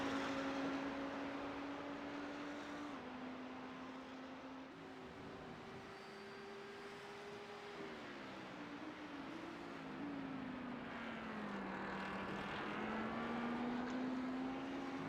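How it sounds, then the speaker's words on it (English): An Audi GT3 race car in a sim racing challenge at Indianapolis drones along with a steady engine note that rises and dips through a four-wheel drift, heard faintly and continuously without speech. "As you see the four-wheel drift, he's got that Audi in."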